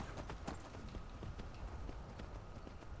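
Horse hooves clip-clop at a steady trotting rhythm in the video game Skyrim, continuous and fairly close over a dense background of game ambience.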